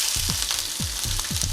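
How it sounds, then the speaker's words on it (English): Onions sizzle and crackle steadily in a hot pan, a bright frying hiss with a few low knocks of stirring, close by. "Let them sizzle while I clean up a little bit around it."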